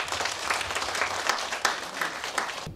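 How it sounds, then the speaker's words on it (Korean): An audience claps in steady, moderately loud applause at a folk song competition's opening ceremony, welcoming a judge onto the stage. "큰 박수로 맞이해 주시기 바랍니다"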